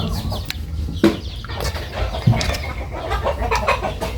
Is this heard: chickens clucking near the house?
yes